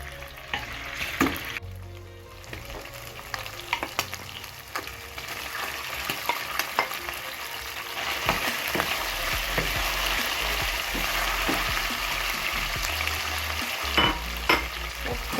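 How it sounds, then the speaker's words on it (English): Beef fries in a hot pan for a Ghanaian beef stew, sizzling and spitting continuously up close, with occasional stirring scrapes and clinks and a louder, fuller sizzle in the second half; nobody speaks. "So we're going to fry this beef for some time."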